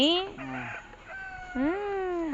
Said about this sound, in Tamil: சேவல் கூவுது